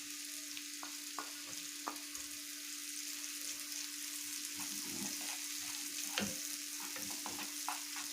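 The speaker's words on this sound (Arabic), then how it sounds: "هسخن البطاطس وتتقلب مع الثوم" Mashed potatoes frying with garlic in a pan and being stirred, a steady close sizzle with occasional scraping and stirring clicks throughout.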